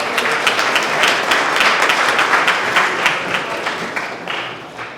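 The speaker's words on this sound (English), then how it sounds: "let's give a round of applause for Al Shal" An audience at a medical network launch event claps for Al Shal, a dense, steady round of applause that stays loud throughout and tapers slightly at the end.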